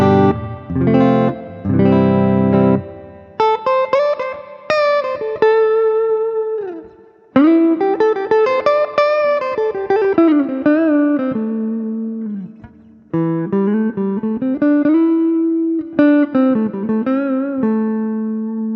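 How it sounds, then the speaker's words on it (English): A budget hollowbody electric guitar on its neck pickup plays a clean-tone passage of picked single notes and chords, close and full, with phrases separated by short gaps and no voices. "neck pickup tones, right? Nice and clean."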